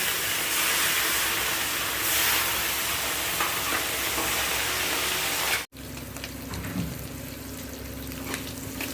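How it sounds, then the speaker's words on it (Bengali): Fish sizzling and crackling in hot oil, loud and continuous, with a brief break before a quieter, steadier fry resumes. "এইভাবেই আমি সব মাছগুলা ভেজে নিব।"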